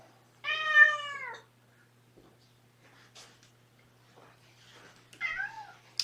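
Kittens meow twice, a loud, clear harmonic meow near the start and a shorter, softer one near the end, with quiet rustling and faint household noise between them.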